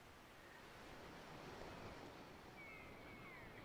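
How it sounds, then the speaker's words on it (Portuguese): A recording of ocean waves plays faintly in the background as steady broadband surf noise, continuous hiss with no distinct breaks, quiet and distant. "Barulho de ondas."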